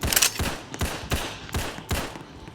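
Short-range gun firing in a Roblox zombie survival game, five loud sharp shots in a steady, fairly quick rhythm, each with a brief decaying tail, no talking over them.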